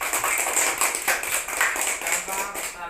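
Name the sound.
hand clapping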